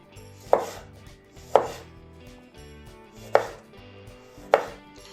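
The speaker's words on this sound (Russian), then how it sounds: "И сейчас самое время добавить к нему помидоры. Нарежу прям крупными кусками." Knife chopping tomatoes into large chunks on a cutting board while making Armenian-style braised lamb, four sharp, evenly spaced chops close up with quiet pauses between.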